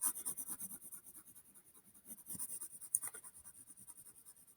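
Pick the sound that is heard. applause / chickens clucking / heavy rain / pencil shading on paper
pencil shading on paper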